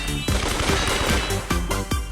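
Gunfire in a video game duel crackles at close range, with sharp, repeated shots in quick irregular succession over a busy layer of game sound.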